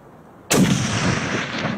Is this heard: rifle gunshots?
yes